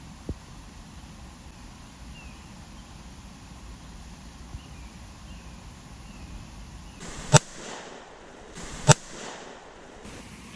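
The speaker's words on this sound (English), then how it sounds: "Just shot a point-blank shot on a beaver and a 100-yard shot on a beaver." Two sharp, loud rifle reports fired at beavers around a swamp on a duck farm, spaced about a second and a half apart, each cracking over a steady outdoor hiss with distant bird calls.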